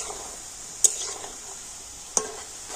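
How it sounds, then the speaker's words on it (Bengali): A spatula stirs sweets frying in a pan over medium heat, with a soft continuous sizzle underneath and two sharp metallic scrapes or taps of the spatula against the pan, spaced about a second apart. "এবার আমি খুন্তি দিয়ে এইভাবে একটু নাড়িয়ে চাড়িয়ে দেবো"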